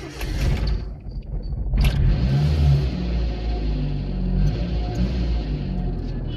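A Maruti Suzuki car engine runs at a steady low rumble nearby, with a brief mechanical clunk partway through and no talking.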